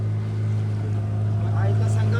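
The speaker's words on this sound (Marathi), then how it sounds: "काय आता बोट मध्ये बसून आम्ही चाललोय." Motorboat riding on the sea along the Konkan coast, a steady loud low engine drone with wind and water noise throughout.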